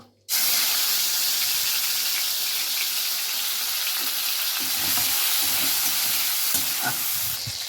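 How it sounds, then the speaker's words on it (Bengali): Prawns frying in hot oil in a pan make a loud, steady, close sizzle and hiss that begins abruptly and holds throughout, with faint bubbling and spatter underneath. "এবারে চিংড়ি মাছটা ভেজে নেব"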